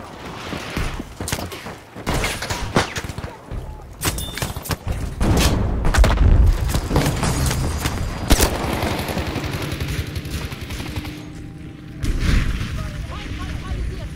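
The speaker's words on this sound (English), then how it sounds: "Need an airstrike on these coordinates!" Airstrike explosions in the game Battlefield V on the Arras map, loud booms and bursts of gunfire in rapid succession that build to a dense, rumbling barrage, with a voice calling out partway through.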